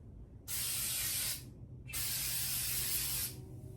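Spray adhesive mists from an aerosol can in two steady hissing bursts, the first about a second long and the second about a second and a half, with a short pause between and no talking.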